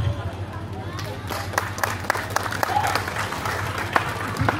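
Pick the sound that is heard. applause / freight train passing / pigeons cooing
applause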